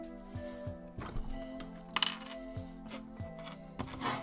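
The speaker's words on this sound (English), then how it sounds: "But I will snip it" Small clicks and light plastic taps as clippers work a Warhammer 40,000 Intercessor miniature's tiny head free from its plastic sprue, with a sharper snip near the middle, close and quiet, no talk.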